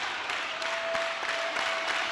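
Home crowd at a high school basketball game between the Connersville Spartans and Greensburg, cheering and clapping steadily in a big gym, a dense continuous roar with a faint whistle-like tone running through it.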